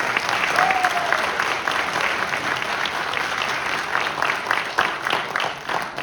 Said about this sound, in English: So give him a round of applause as well.